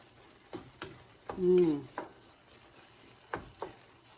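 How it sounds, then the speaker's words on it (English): Pumpkin shrimp risotto cooks in a pan, scattered spoon scrapes and taps against the pan over a quiet simmer, with one brief squeaky stir stroke standing out. "Our risotto is cooking nicely."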